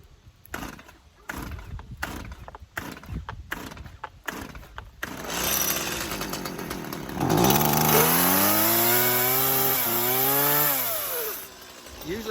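A Stihl MS 170 chainsaw in a silvopasture setting takes a series of rapid rhythmic pull-cord tugs, then sputters into life and runs close and loud, its engine revving up and down in sweeping pitch changes.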